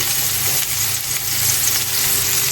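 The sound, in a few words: ground beef cooking in a pan for tacos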